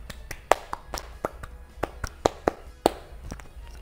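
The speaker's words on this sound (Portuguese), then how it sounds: "Palmas, peraí, palma." Hands clap in an irregular run of about a dozen sharp, close slaps, with uneven spacing and no voices over them.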